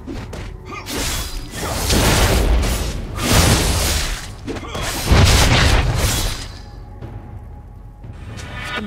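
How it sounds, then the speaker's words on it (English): A League of Legends turret is destroyed amid heavy booms, crashing impacts and whooshing spell effects, with loud bursts rolling in waves before settling into quieter game ambience near the end. "Your turret has been destroyed."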